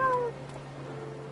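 A cat meows in Final Fantasy XIV: one short, tonal meow at the start that fades into a quiet, steady in-game ambient hum.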